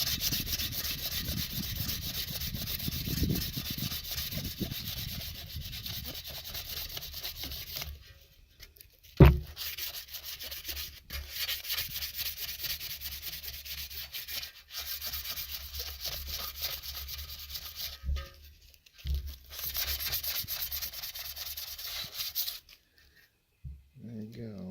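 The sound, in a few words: sanding a differential gasket surface with sandpaper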